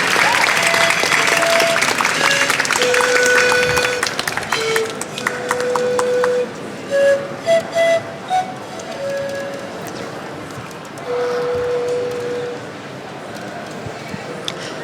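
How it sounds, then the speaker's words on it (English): A crowd at an academic pitch-and-panel event claps loudly and steadily at first, the applause thinning into scattered claps while brief tones and background sounds continue. "Please give a big applause"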